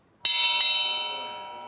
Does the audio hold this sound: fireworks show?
no